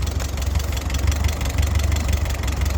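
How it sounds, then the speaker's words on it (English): A 1948 Ford 8N tractor engine idles at its lowest throttle setting, a steady close, low-pitched rumble with even knocking pulses running throughout, with no talking. "Here's the throttle right here. As low as it goes. It's the idle."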